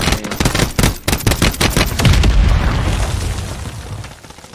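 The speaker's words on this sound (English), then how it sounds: "He's getting shot at." Heavy automatic gunfire and booming blasts from a Call of Duty Warzone match on Rebirth Island, rapid bursts crowding the first couple of seconds, then a dense, rumbling barrage that tapers off toward the end, with no talk over it.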